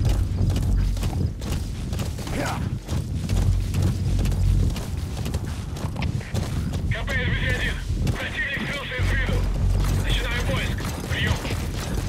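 Rhythmic horse hooves clip-clop in the Metal Gear Solid 5 video game, with mechanical sounds and beeping tones layered in, under someone speaking.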